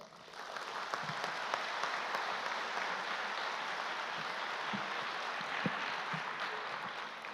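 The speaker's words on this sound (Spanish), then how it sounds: "Muy merecido el aplauso" Sustained applause from a crowd, dense and steady clapping that holds throughout, fairly loud with no voices above it.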